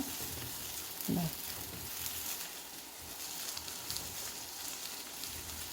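Sliced onions for a beef sandwich sizzle in a pan, a steady close crackle of frying that continues throughout with one brief stir-like clatter near the start and no talk.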